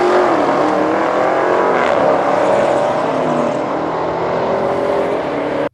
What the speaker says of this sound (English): oh wow, look at that muscle car.